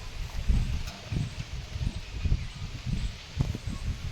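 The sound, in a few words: strong wind blowing through leaves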